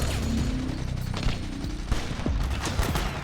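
Gunfire from soldiers in Metal Gear Solid 4, during a mansion battle: rapid overlapping shots and bursts, loud and close, crackling over a dense, rumbling battle background.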